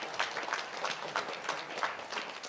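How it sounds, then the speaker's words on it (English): Audience applause at a JEE results success meet for an IIT Bombay zone topper, a dense patter of many hands clapping at steady moderate loudness for a couple of seconds. "huge round of applause"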